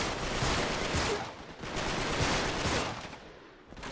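Sustained rattling gunfire from a firefight in Uncharted 3: Drake's Deception, a continuous noisy barrage of overlapping shots at moderate loudness that swells and dips over a few seconds.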